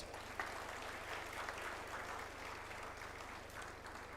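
A room full of people claps steadily at a college first-year inauguration ceremony, a continuous patter of applause heard from some distance, without a break.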